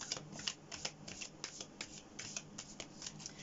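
Moonology oracle cards shuffled by hand, a quick run of crisp, close riffling snaps and slaps in an irregular rhythm, clear and alone.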